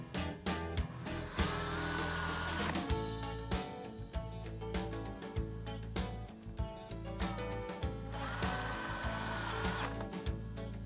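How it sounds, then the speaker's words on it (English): A power drill drives self-tapping screws into the sides of Flex-C Trac, a steady motor whir in repeated runs with short stops between, close and fairly loud, no talk. "install self-tapping screws into the sides of the Trac."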